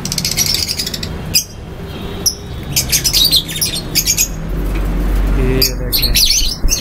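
A pair of black masked lovebirds in a cage give loud, sharp chirps and squawks in quick clusters, close by, while someone speaks briefly.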